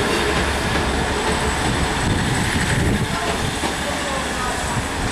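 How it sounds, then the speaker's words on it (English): An LNER service to London King's Cross pulls out of Lincoln station, a loud steady rumble of wheels and traction with clickety rail noise and some wheel squeal, close by and continuous throughout. "As my train was pulling in, the 1127 LNER service to London King's Cross departed."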